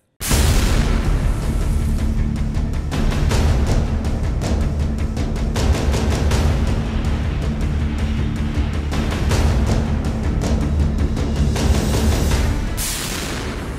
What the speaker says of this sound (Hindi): विस्फोटक से भरी जिस कार को सुरक्षा बलों ने आज कंट्रोल्ड ब्लास्ट में उड़ा दिया